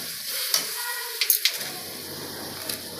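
Finely chopped tomato is stirred into a frying pasta masala, a gentle sizzle beneath a few spoon scrapes and clicks against the pan, quiet and close with no talking.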